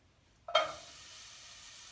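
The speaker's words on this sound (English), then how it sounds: "So we're going to toss it in. Let's see if we hear the sizzle." Chopped onion hits a hot pan with a sudden hiss that swells quickly, then settles into a soft, steady sizzle, fairly faint and heard alone.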